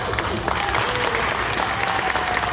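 Steady applause from a Q&A audience at FAN EXPO Denver 2021 fills the whole stretch, dense and continuous with scattered individual claps standing out.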